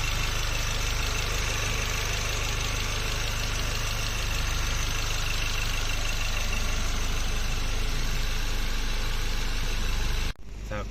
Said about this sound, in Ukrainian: Двигунчик потрохи прогрівається і ось так от він працює.